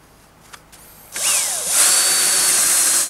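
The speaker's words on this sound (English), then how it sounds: "So now that I've drilled out most of the material" A power drill bores out a mortise in timber while a spring pole lathe is built. After a few faint clicks it spins up loud and steady, whining and grinding continuously through the wood.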